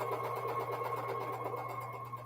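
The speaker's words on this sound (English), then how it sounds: "I'm sewing these small scraps together anyway because they're here and I'm sitting at the sewing machine" A sewing machine stitches small fabric scraps together, running at a steady, continuous whir with a constant mechanical hum throughout.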